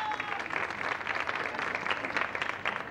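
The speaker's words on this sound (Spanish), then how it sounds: "¡Fuerte aplauso para ellos!" Audience applause at a large tribute show, a dense, continuous wash of many hands clapping at once, steady and somewhat distant throughout.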